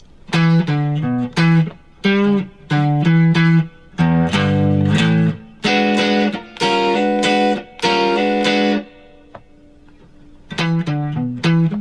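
A distorted electric guitar plays a choppy riff, short repeated phrases with brief gaps, loud and close, no voices.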